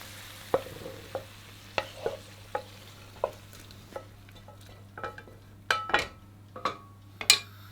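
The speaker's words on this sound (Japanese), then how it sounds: "ここでアルコール分を飛ばしながらフライパンについたうまみをきれいに剥がします。" Wine bubbles and sizzles in a pan after searing a rack of lamb, with a utensil scraping the browned bits off the bottom in repeated short strokes and taps over a low steady hum.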